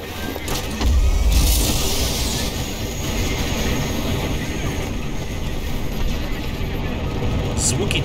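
Vehicle sounds from the Call of Duty: Advanced Warfare video game form a loud, continuous mechanical rumble and roar that swells near the one-second mark, with voices mixed in.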